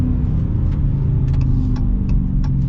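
Dodge Challenger Scat Pack Widebody Shaker muscle car engine, a deep close rumbling idle with a steady low throb and faint ticking, heard in snowy weather.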